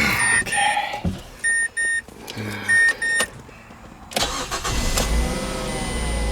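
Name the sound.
2009 Mazda 5 engine starting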